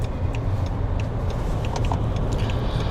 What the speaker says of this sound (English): there's quite a bit of traffic on the bypass